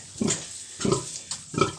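An agitated sow with newborn piglets grunts in three loud, close, rhythmic bursts about a second apart, alone without talk.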